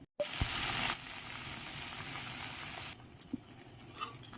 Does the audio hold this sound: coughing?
no